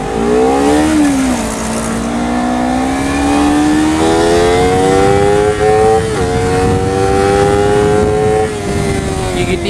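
A Honda CBR250RR motorcycle accelerating hard in Sport Plus mode, its engine wailing loudly and close as the pitch climbs steadily through the gears, with short dips at each gear change and no talking.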